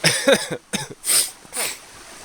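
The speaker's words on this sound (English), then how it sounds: "you might have heard a cough now and then" A man camping in the outdoors coughs several times in short, close, dry bursts separated by brief pauses, with no speech.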